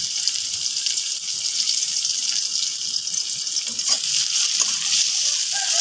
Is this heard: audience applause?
no